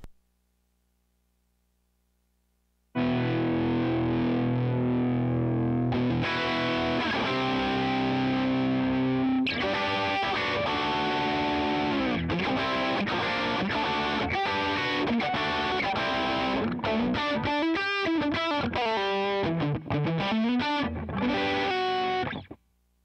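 A loud, gritty distorted electric guitar through a Line 6 Helix and Soldano SLO100 plays sustained chords and then a quick run of notes, with a dry tone and no delay or echo.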